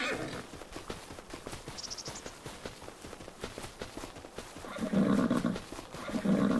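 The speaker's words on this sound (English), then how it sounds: "you can have a pinto colored quarter horse or a pinto colored thoroughbred" A horse in Farming Simulator 25, a rhythmic clip-clop of hooves moving across the ground with louder snorting or whinnying bursts near the end.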